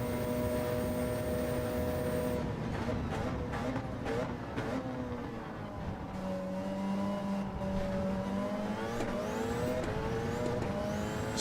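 Racing car engine in a racing video game, steady and moderately loud, with shifting revs and gear changes and tyre noise over a continuous drone, without voices.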